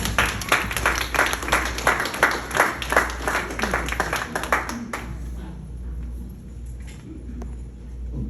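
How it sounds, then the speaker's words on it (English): A family orientation audience claps for Mr. Wood, a dense round of applause that runs for about five seconds before thinning out to a few scattered claps over a quiet room. "please give Mr. Wood a round of applause"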